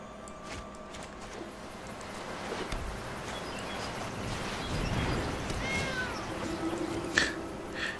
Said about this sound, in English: when the cat acolyte comes in, he makes the cat noise